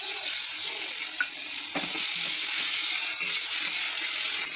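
Ground onion paste sizzles and fries steadily in hot oil with whole spices, a continuous close hiss broken by a few faint stirring clinks.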